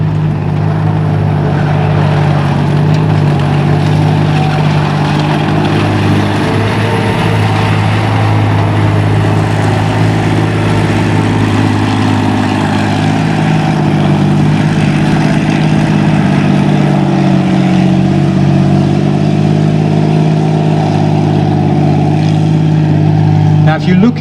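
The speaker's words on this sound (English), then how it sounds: "I'll just let you listen to the lovely engine sound." A Comet tank, a British design from the end of the Second World War, runs its engine at a steady idle: a deep, continuous rumble with a throbbing low drone that holds close and loud for the whole stretch.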